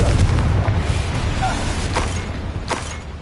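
A Confringo blasting curse goes off in the Hogwarts Legacy video game, a deep booming explosion that rumbles low and steady under the combat audio and fades over a few seconds.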